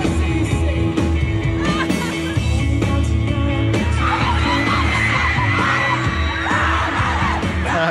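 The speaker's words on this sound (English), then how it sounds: "the crowd screaming." A large concert crowd screams continuously at a live show, a dense, loud wall of shrieks and yelling that never lets up, with faint music and bangs underneath.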